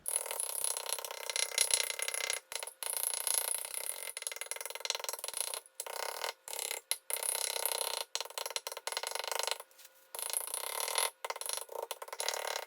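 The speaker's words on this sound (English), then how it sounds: "I'm going to take these candy canes and crush them up" Candy canes being crushed for peppermint bark, heard as bursts of dry crackling and grinding that stop briefly several times, with no talking.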